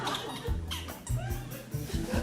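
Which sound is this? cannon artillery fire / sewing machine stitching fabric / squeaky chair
squeaky chair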